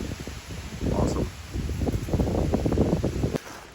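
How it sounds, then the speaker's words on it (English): Strong wind gusts on a rail trail near a lake, buffeting the microphone with loud rumbling surges and leafy rustle that swell and drop throughout before cutting off abruptly near the end. "I started walking back from the lake because this is so windy"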